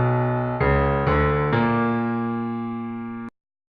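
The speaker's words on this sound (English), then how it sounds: "And here it is with a half step up." A cave motif from the video game Link's Awakening with its last note raised a half step, three bright synth notes struck in sequence, the last sustaining and decaying before cutting off abruptly, with no voices.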